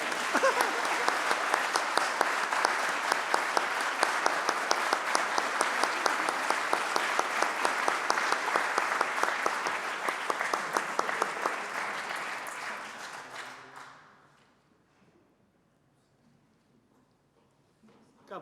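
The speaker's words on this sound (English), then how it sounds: "Give them a huge round of applause" Crowd applause at a New Zealand science awards ceremony, a long sustained burst of many hands clapping that holds steady for about twelve seconds, then fades out into near silence.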